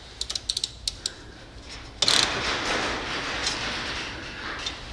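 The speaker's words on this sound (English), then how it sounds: "I personally use just a small ratchet for those." A small hand ratchet clicks through several quick strokes on a rear wheel bearing job on a Toyota Highlander, followed by a louder, sustained mechanical rattle in a garage setting.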